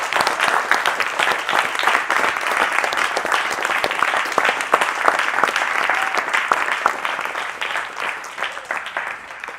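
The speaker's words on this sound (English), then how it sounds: "Give Mr. Hugh a hand clap." A crowd at a gathering gives long, steady applause, many hands clapping in a dense, lively burst that holds for nearly ten seconds and tapers slightly at the end.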